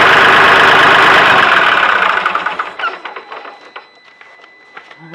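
Kioti CK3510 tractor diesel engine, loud and dense at first, then dropping after about two seconds to a quieter, uneven idle with knocking pulses as it warms up.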